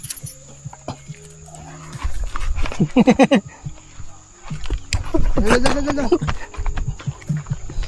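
A dog at a mountain campsite in Bangkong Kahoy Valley gives a couple of short bursts of barking and whining at close range, with people talking nearby.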